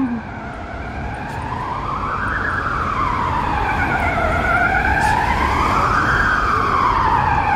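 An ambulance siren wails, rising and falling in slow sweeping cycles, loud and steady over continuous traffic rumble on a street in Belgium, with no talking.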